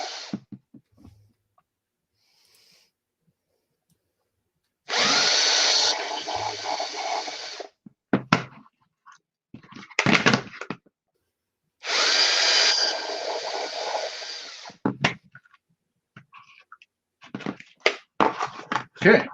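Power drill fitted with a step bit boring through plastic, running in two long sustained bursts with shorter spurts and pauses between them, close and loud.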